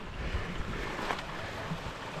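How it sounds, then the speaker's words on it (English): Moving water of a stream along a desert hiking trail in the Superstition Wilderness, Arizona, heard as a steady, fairly faint rushing wash with wind noise, no voices over it. "moving water"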